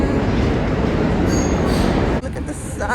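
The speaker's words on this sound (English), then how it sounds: "let me get on this train" A subway train rumbles along its rails with a loud, steady roar and faint wheel squeal, the noise shifting near the end as the car moves on.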